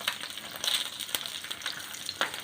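Eggs frying for a quick breakfast in a pan that has been covered, making a close, steady sizzle with sharp spattering pops for a couple of seconds.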